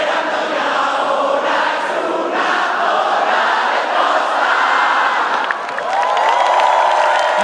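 A home crowd roars and cheers for a Eurovision performance, a loud, dense, continuous wall of shouting and whooping that holds steady throughout with a brief dip near the end.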